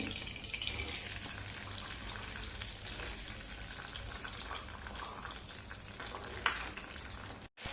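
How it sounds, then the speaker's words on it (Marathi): Green peas fry in hot oil for a vegetable biryani, giving a steady, moderately quiet crackling sizzle throughout, with a brief scrape near the end. "हे बघा वटाणे सुद्धा छान तळलेले"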